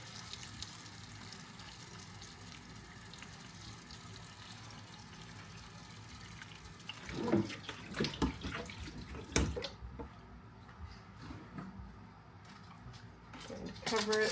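Tap water pours steadily into the bottom of a pressure canner during a large tomato canning session, a continuous hiss that swells into louder splashing bursts partway through while a person talks nearby.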